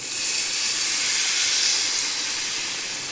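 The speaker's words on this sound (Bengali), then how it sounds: "এবারে দিয়ে দেবো জল" Water poured into a hot pan of simmering chicken curry bursts into a loud, steady steam hiss that fills the space close up and fades slightly toward the end.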